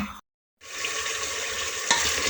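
Arbi gosht, taro and mutton, stirred in a pot: a steady loud sizzle and scraping of the spoon through the food, broken by a brief silent gap near the start.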